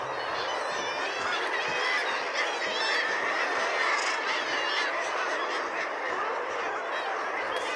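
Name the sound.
Arctic birds calling at Varanger, likely geese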